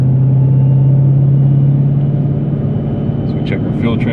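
A Whipple supercharged 2017 Dodge Challenger R/T driving on the street, with a loud, steady, low engine drone from inside the car and faint chatter near the end.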